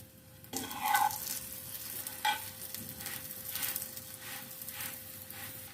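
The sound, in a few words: paratha frying in ghee on both sides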